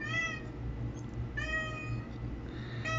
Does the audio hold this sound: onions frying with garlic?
no